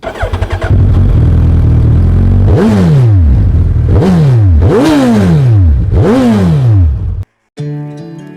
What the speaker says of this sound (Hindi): तो दोस्तों आज हम यूनिकॉर्न बाइक के साइलेंसर से फुलाएंगे बलून को